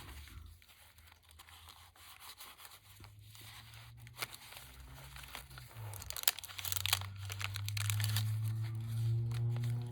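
Crisp crinkling and rustling of thin glassine paper, close up and busy, over a low steady hum that swells toward the end.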